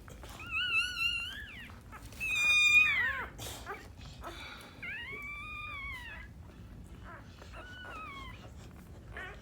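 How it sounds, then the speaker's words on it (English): An American Bully puppy whimpers with high, thin whines and rising-and-falling cries in a quiet indoor space, with no voices around. "This is my little dog right here though."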